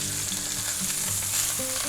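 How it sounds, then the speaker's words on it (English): Pork chops sizzle steadily in a frying pan, a dense continuous crackle and hiss close by with faint stirring clatter, no voices. "There's nothing like something sizzling in a pan"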